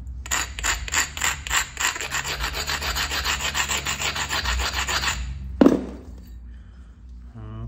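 A flint-knapped corner tang knife edge is abraded to add a bevel, a rhythmic series of close, scratchy rubbing strokes, then a sharp knock and fading rustle.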